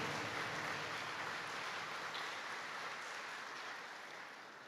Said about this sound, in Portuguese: Quero te convidar a aplaudir a palavra de Deus